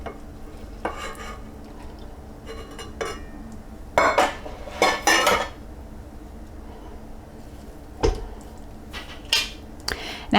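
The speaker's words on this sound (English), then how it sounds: "Now we're going to mix this together" A spoon stirring whole wheat flour, yeast and warm liquid in a bowl, heard as soft scraping with a few louder clinks and knocks against the bowl, close and intermittent.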